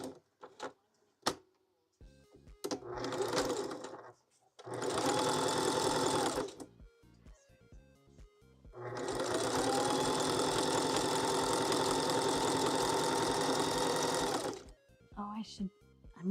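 A sewing machine runs a straight stitch in three bursts of steady, fast mechanical whirring, the last one long, close and loud, with quiet gaps and handling clicks between runs.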